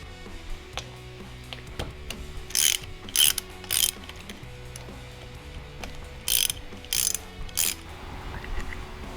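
A hand ratchet clicks in short quick bursts as it loosens the reed valve bolts on a Vulcan 750 motorcycle engine, several separate spells of close, crisp ratcheting with quieter workshop sounds between them.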